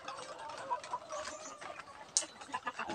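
Chickens shut inside their coop, with soft scattered clucks and rustling at close range and one sharper brief call near the end.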